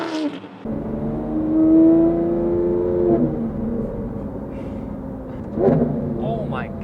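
A Lamborghini Aventador with a 6.5-liter naturally aspirated V12 revs up with a long rising engine note, settles to a steady drone, then surges again briefly near the end, with a voice reacting over it.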